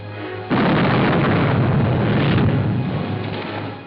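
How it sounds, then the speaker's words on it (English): A warship's cannon firing a single heavy shot across another ship's bow, a sudden loud boom that rolls on as a long roaring rumble before slowly easing off. "Fire a shot across her bow."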